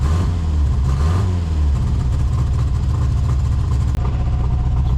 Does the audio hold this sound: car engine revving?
yes